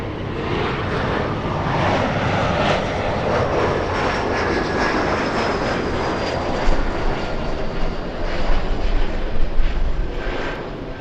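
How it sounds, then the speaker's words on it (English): A SkyWest Embraer E175 jet airliner flies in to land at LAX, its steady loud engine roar filling the whole stretch with a whining tone and swelling slightly near the end, with no voices. "It's a little E175 flying in from Phoenix, SkyWest"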